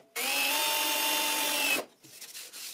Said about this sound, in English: I center it on them and I screw it.